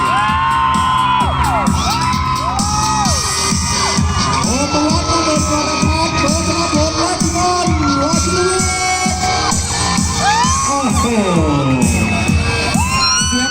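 Crowd of fans cheering, whooping and shrieking at a Honda Click motorcycle launch event, a loud, continuous roar with rising screams throughout, and a voice talking through parts of it.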